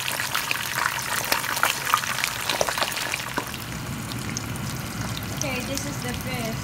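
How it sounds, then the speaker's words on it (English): Pompano fish frying in oil, crackling and bubbling with scattered pops over a steady sizzle; a voice is heard faintly near the end. "Right now I'm frying the pompano fish."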